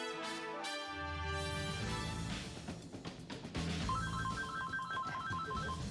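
A telephone rings with a repeating electronic trill over a background music bed, steady and moderately loud, no talking.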